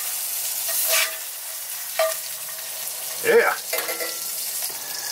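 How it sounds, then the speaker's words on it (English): An egg fries in hot oil in a pan at a camp stove, a steady close sizzle broken by a few scrapes and stirring clinks, with a short shout from a voice partway through. "While the egg is cooking, I'll go ahead and put the Spam on."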